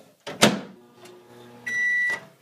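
A microwave oven runs briefly, with a sharp clunk of its door followed by a quiet humming interval and then a loud, steady electronic beep tone near the end, close by and with no talking.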